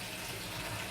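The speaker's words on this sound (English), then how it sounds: "So I'm gonna put some more water into the pot." Water pours steadily into a cooking pot while making Jamaican green gungo peas soup, a soft, continuous splashing stream heard briefly and quietly, with no talking.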